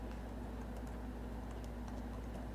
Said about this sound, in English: So let's type yum list